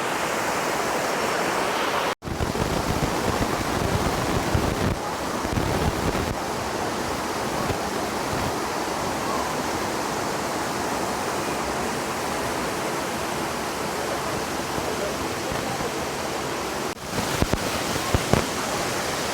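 Small forest waterfall at Vazhvanthol, a low cascade below the main falls, pours as a steady, loud broadband rush of water that fills the whole stretch with no voices over it.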